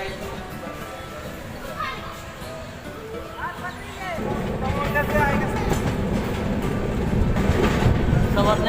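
Passenger train pulling out of platform 2 at Naugachia railway station, heard from aboard a sleeper coach of the Champaran Humsafar Express, with a steady rumble that grows louder and fuller as the train gathers speed.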